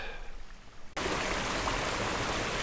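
Sherman Creek rushes beside a trail near the Lochsa River, a close, loud, continuous broadband roar of flowing water that starts abruptly after a quieter opening second.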